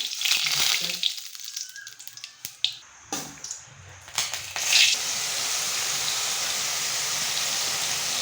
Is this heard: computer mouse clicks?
no